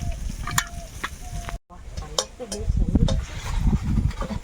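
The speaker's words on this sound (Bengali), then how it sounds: "একটু শুকনো লঙ্কা ভেজে নিলাম" Dried red chillies crackling and sizzling in hot oil in a home kitchen, with stirring scrapes and a brief cut partway through, close and moderately loud while a voice talks over it.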